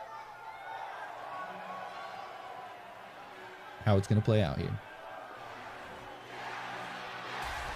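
A steady roar from the virtual arena crowd in the WWE 2K19 wrestling game runs throughout, swelling slightly near the end, while someone speaks briefly over it midway.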